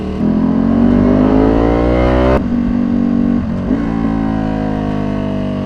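A Ducati superbike accelerates hard, its engine note climbing steeply up to a sharp gear change, then pulling up again through another shift, loud and close.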